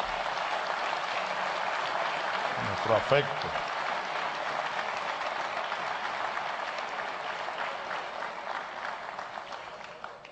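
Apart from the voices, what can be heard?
audience applause for Nicolás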